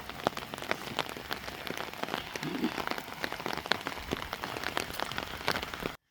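Steady rain patters on a surface in Italy, with dense, crackling drops throughout and no voices.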